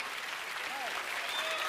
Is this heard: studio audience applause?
yes